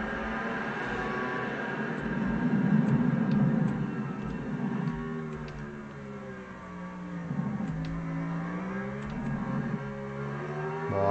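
Motorcycle engines racing in the MotoGP 2020 video game at the Austria circuit, a continuous high revving whine rising and falling through gear changes, shifting pitch repeatedly over several seconds.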